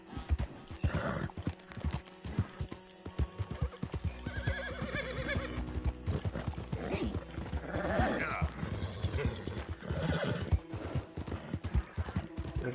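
A horse is ridden in Red Dead Redemption 2, its hooves clip-clopping in a steady rhythm, joined by a neigh and whinny mid-way, while someone talks over the sound.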